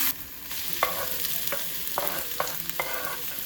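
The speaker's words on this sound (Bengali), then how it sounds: "দিয়ে দিলাম তেল তারপরে দিয়ে দিচ্ছি রসুন কুচিটা রসুনটাকে একটু ভালো করে ভেজে নেব" Chopped garlic fries in oil on a griddle pan with a steady close sizzle, while a utensil scrapes and stirs in a few distinct strokes.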